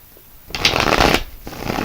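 A stack of tarot cards riffled and shuffled close by, a crisp fluttering burst lasting under a second, then a short pause before a softer second shuffle begins.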